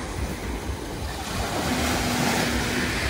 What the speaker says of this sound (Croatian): samo da vam pokažem kako je more nemirno i lijepo